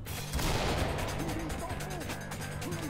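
Gunfire in the tactical shooter Ready or Not, a burst of loud shots in an indoor setting, with a few sharp reports up front and further cracks and echoes trailing after, while people talk over it.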